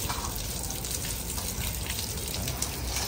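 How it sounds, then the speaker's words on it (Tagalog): A shower sprays water over a child for a rinse before going into a pool, a steady continuous hiss of running water filling the whole moment without pause. "Shower po muna siya bago natin paliguin sa pool."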